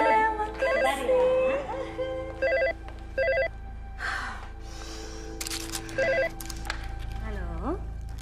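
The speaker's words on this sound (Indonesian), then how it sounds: "Sebentar ya saya angkat telepon ya." A telephone ringing indoors in repeated bursts of electronic bell tones, with people speaking in between the rings and light handling noises.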